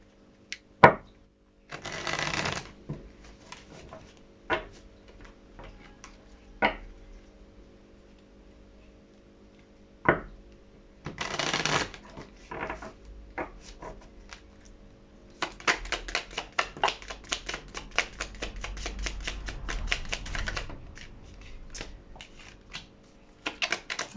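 Crisp riffling and flicking of tarot cards being shuffled and drawn, short bursts at first, then a longer stretch of rapid card slaps near the end, close and clear with no talk.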